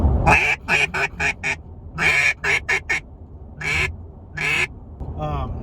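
A duck call blown in short, nasal quacking bursts, several quick notes in rhythmic groups, loud and close, with a brief pause between sets.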